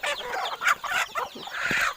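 Chickens clucking on a farm, with a steady jumble of overlapping clucks and squawks close by and fairly loud, the calls rising and falling in short bursts.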